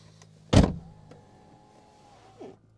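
Inside a 2025 Mercedes-Benz CLE Coupé, a sharp mechanical thunk is followed by quiet cabin stillness and a brief soft electric motor whir as the seatbelt presenter arm extends. No one speaks.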